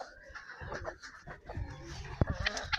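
Ducks and guinea fowl cluck, squawk and chatter close by in a busy, overlapping farmyard jumble, with faint bits of voice.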